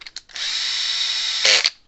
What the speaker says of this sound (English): a bigger drill bit.